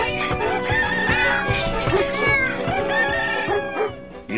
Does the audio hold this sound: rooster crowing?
yes